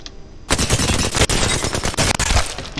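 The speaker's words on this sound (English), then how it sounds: "they brought back the alternator" Alternator submachine gun from Apex Legends firing a sustained rapid burst, loud and close, with dense rhythmic shots continuing after a brief quiet start.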